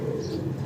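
A young pair of Lahori fancy pigeons, a male and a female, gives a single short, low, throaty coo close by against a quiet backdrop.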